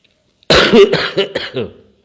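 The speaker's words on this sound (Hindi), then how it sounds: "खांसने का मन कर गया" A single person coughs and clears their throat in a short burst of several harsh, close-up hacks, with silence before it.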